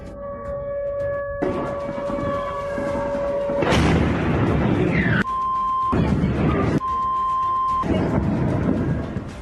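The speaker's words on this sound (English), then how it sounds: "A video appeared online where you can hear bursts of gunfire and explosions" During a drone attack on a pier, heavy explosions and booming blasts ring out over wailing siren tones, loud and continuous, with rumbling impacts and bursts of fire.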